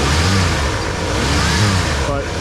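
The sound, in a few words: 1987 Ford Bronco engine running and revving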